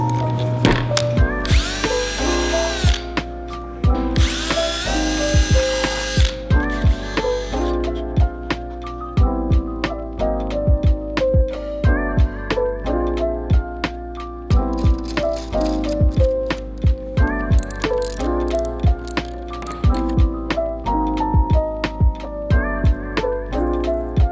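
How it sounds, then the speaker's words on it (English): A power drill whines in repeated short bursts drilling holes in metal, with clicks and clatter between runs, close and fairly loud. "what I'm gonna do is I'm just gonna drill out these holes."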